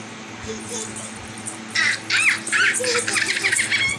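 A child barks and yaps like a dog in several short bursts, imitating the animal close to the microphone.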